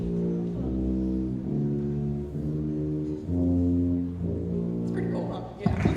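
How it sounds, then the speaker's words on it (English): Low tuba notes at a school spring concert ring out one after another, sustained deep tones with short gaps between them, closing with a few scattered noises. "I'm going to have him play a couple notes on the tuba so you can hear how low it is."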